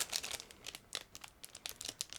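Sealed plastic bag holding 1/35 scale model kit frames being cut and pulled open, giving quiet crinkling and rustling in quick irregular bursts, close up with no talk.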